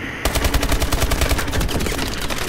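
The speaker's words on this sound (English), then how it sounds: "Nah, sentry gun got me." A sentry gun in Call of Duty: Advanced Warfare fires a rapid, continuous burst of close, loud automatic gunfire, its shots tightly packed over a couple of seconds with no talk.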